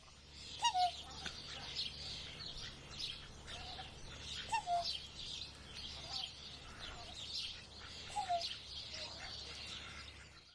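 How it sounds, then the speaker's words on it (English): Eurasian coots calling in Victoria, Australia, with short sharp honking notes repeated every couple of seconds, moderately near, over a busy background of other birds chirping. "The small blackbird is an Eurasian coot, and this bird breeds across much of the old world"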